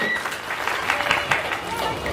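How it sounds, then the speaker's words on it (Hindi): An audience at a Bihar general-knowledge quiz event claps loudly, a dense burst of applause close by, with some voices mixed in. "जोरदार ताली बजाइए"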